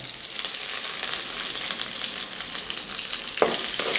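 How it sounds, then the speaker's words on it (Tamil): Chopped shallots fry in hot oil with mustard seeds and dried red chilies for an amaranth greens stir-fry. Close, continuous sizzling and crackling builds a little louder toward the end, with no voices. "இப்போ அதில் 15 சின்ன வெங்காயம் பொடியாக கட் பண்ணி வச்சுருக்கேன், அதை சேர்த்துக்கிறேன்."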